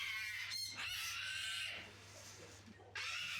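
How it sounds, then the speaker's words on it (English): A screeching bird gives harsh, shrill squawks in bursts, loud and close, with a steady low hum underneath and a short quieter gap near the end. "There's this screeching bird again."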